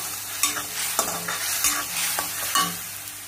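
Tamarind masala for girmit bubbling in a pan, a close crackling sizzle punctuated by several sharp stirring scrapes and clinks, no voices.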